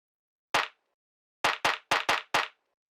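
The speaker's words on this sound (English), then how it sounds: "It's just this very nice, like deep, kind of mid-rangey clap," Deep, mid-rangey clap sample from an organic electronic production, struck once and then in a quick irregular run of five close hits, each a dry punchy snap with a brief tail, heard alone and clear.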